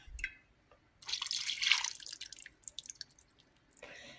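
Melted coconut oil poured into a container for winter flock blocks, a brief bright trickling, splashing pour followed by scattered drips and small clinks, close up and without talk.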